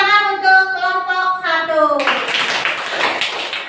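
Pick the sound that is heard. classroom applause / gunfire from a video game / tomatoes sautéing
classroom applause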